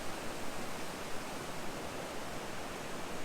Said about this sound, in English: Decent sized waterfall. It's more of a slide than a waterfall.